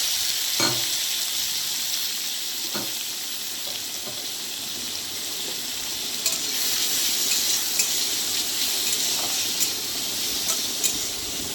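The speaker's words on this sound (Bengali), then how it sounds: "পেঁয়াজটাকে আমি একটু ভাজতে থাকবো" Onions fry in oil in a wok after cumin seeds are tempered, giving a steady, close sizzle with a few faint clicks of stirring throughout, and no voice.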